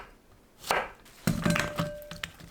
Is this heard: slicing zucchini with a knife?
yes